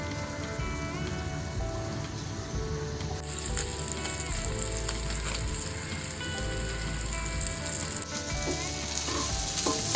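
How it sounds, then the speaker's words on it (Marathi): Paneer shallow frying in butter in a kadai, a continuous dense sizzle and crackle that grows brighter and louder in the middle stretch, with no talking. "कढईमध्ये आपण पनीर बटरमध्ये थोडं स्लाईट शॅलो फ्राय करून घेणार आहोत"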